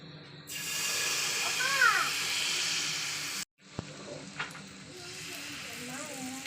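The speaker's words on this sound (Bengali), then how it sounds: "তো দেখতে পাচ্ছেন তেলটা দিয়ে আমি একটু গরম করে নিয়েছি। তো চলুন এবার আস্তে আস্তে 1 চামচ 2 চামচ গোলাটা দিয়ে দেবো।" Spoonfuls of batter dropped into hot oil, a steady close sizzle that cuts off abruptly and resumes a little quieter, with a voice talking over the frying.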